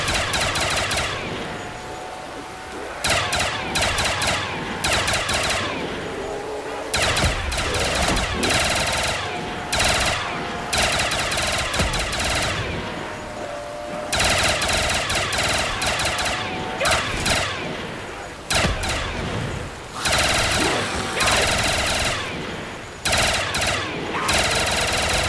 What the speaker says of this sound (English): it's the classic grenade launcher